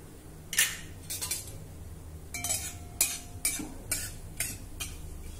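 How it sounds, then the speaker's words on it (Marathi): Mustard, fenugreek and cumin seeds crackle in about a tablespoon of hot oil in a pan, sending out quiet scattered pops and sharp snaps over a soft sizzle, with no talking. "जिरं, मोहरी, मेथी दाणे छान तडतडले।"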